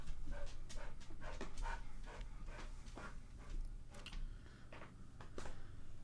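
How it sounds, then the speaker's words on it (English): A dog pants heavily and fast, close up, in quick steady breaths over a low background hum with no talking. "Why are you breathing so heavy, you frickin' pup?"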